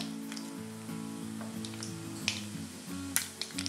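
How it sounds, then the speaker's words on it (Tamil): Tiny mustard seeds crackle and pop in hot oil, sharp sporadic snaps over a steady sizzle, close by. "கடுகு பொரிய ஆரம்பிச்சிருச்சு."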